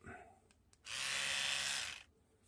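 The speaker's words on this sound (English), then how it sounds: "There's your toothbrush." An Oral-B electric toothbrush, just fitted with a replacement battery, runs in a single steady burst of about a second, loud and close, a high even buzz with brief faint sounds before and after.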